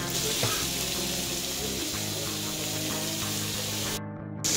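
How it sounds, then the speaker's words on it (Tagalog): Onion, string beans and chayote sautéing in a pan for Bicol-style pancit: a steady, close sizzle with faint stirring and clatter, briefly cut off near the end. "This time, isunod natin yung sitaw at saka sayote. Gisahin natin sila."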